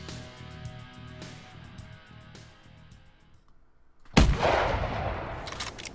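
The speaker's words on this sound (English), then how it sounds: "That was a bad shot, but it was a pretty far shot." A loud rifle gunshot fired at a polar bear in the hunting game theHunter 2017 cracks suddenly at close range and then rolls out in a long, booming tail over a quieter, busy game ambience.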